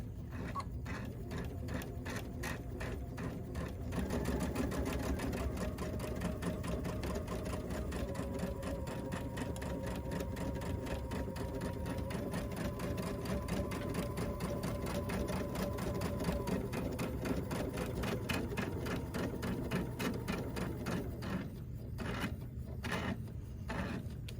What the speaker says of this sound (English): I'm gonna sew 1/4 inch down here.